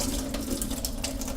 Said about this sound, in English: I'm going to take all the water out of that.